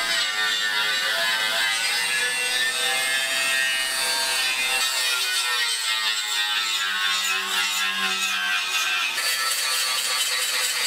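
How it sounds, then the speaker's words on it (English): A flap disc grinds rust off a Chevy squarebody truck bumper with a loud, continuous abrasive rasping that shifts in tone as the disc moves across the metal. "I'm gonna try to use this flap disc to get this thing"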